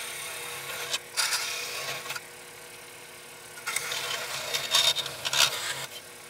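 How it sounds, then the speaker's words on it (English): A scroll saw cutting through a piece of plastic pump tubing in bursts, with two separate runs of buzzing cutting noise and a quiet pause between them. "I'm going to actually have to go do that in the scroll saw real quick"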